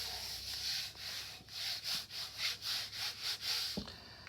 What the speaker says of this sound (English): I can just trim the excess with my pinking shears